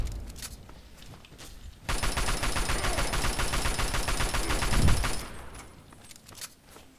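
Sustained minigun fire in Fallout 3, a dense rapid rattle that starts abruptly and holds loud for about three seconds before cutting off, with quieter scattered shots and scuffing before and after.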